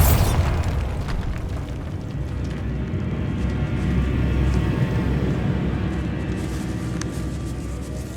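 A Bombarda blasting spell goes off in Hogwarts Legacy inside a decayed catacomb, a loud sustained explosive rumble with crackling debris that holds steady for several seconds with no voices.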